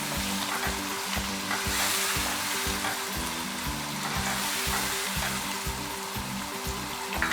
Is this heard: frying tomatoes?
yes